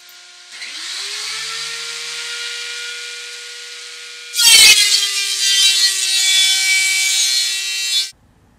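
A DeWalt 13-inch thickness planer runs with a dust collection system, a steady high-pitched motor whine that jumps into a loud, rough cutting roar as a wood board feeds through, then cuts off.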